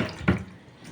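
Kitchen tap running briefly as hands are rinsed after grinding spices for a beef dish: a short, close splash of water that fades into a soft trickle.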